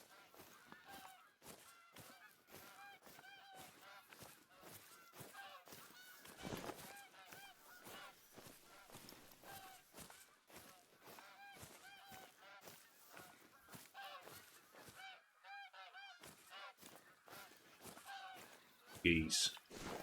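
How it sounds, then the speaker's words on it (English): A flock of geese honks continuously in the TruHunt hunting game on the Hirschfelden map, many overlapping nasal calls close and loud, with a faint voice briefly underneath. "Geese."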